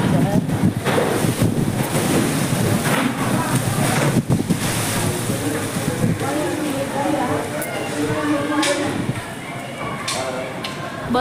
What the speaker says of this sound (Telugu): దుమ్ము దుమ్ము గాలి మబ్బు భయంకరంగా ఉంది